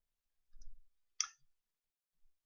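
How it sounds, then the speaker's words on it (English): A single sharp mouse click on a software run button, close and clear in near silence, with a faint soft thump just before it. "We click on the run button."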